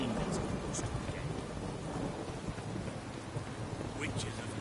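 Conjured rain and thunder in a fantasy video game: dense, loud rainfall with low rolling thunder rumbling continuously throughout, no voices over it.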